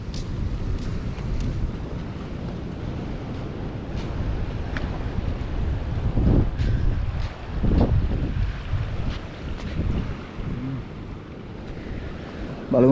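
Water waves wash in at Kahandamodara on the Sri Lankan coast, heard as a broad rushing roar with heavier surges swelling about halfway through, mixed with gusty wind buffeting the microphone.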